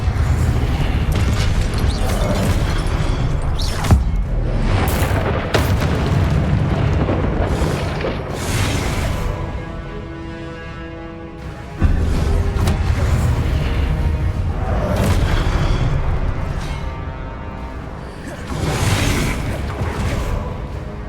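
Confringo fire spells from the game Hogwarts Legacy burst repeatedly in loud, booming explosions over a dense layer of game music and effects, with several sharp blasts spread across the stretch.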